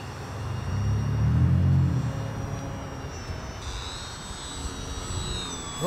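An electric RC Taylorcraft model airplane flies overhead, its motor whine swelling as it passes close and then settling to a steadier hum in the distance.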